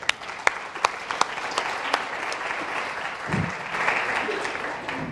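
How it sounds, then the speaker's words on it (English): Audience applause at the Social Good Summit 2015 for a panel of female superheroes, a crowd clapping steadily with sharp individual claps standing out, swelling slightly toward the end. "please, guys, one big round of applause for my female superheroes right here"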